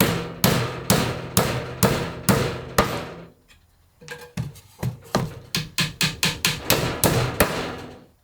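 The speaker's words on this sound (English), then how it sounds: "So I've got to just nail in this together." Nails being hammered into a new wooden beehive box, a fast run of sharp, loud, close strikes, a brief pause, then another steady burst of blows.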